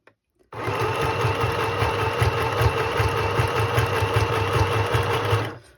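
A small sewing machine stitches fabric tags in one continuous burst of about five seconds, a close, loud, rapid mechanical whirring rattle that starts and stops sharply.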